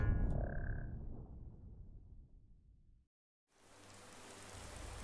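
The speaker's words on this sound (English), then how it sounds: "It's another rainy day in Falskaar." Steady rain falls in the Falskaar area of the video game Skyrim, a continuous hiss of rainfall that fades, cuts to silence briefly, then resumes at moderate level.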